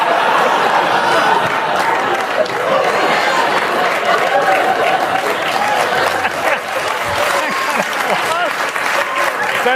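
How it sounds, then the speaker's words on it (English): A studio audience applauds continuously for about ten seconds, dense clapping mixed with some chuckles and crowd chatter. "That eventually got applause?"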